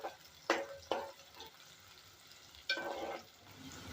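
Onion frying in a pan until pinkish, a soft sizzle punctuated by a few sharp stirring scrapes near the start and again later, fairly faint with no talking.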